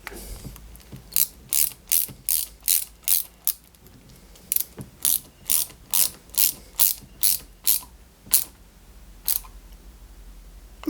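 A screwdriver turns a small BM screw into a 1/8-scale Toyota Supra model kit, giving a rapid series of crisp ratcheting clicks in regular bursts, close and distinct with a brief pause midway.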